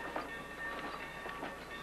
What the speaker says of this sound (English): But now it's rolling again. Authentic steam locomotives,